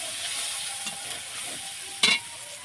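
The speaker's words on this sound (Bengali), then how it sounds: "পেঁয়াজ কুচি দিয়ে দিলাম, একটু ভেজে নেব।" Chopped onions fry in oil in a kadai during fish curry preparation, giving a steady close hiss with a brief louder clatter of stirring near the end and no talking.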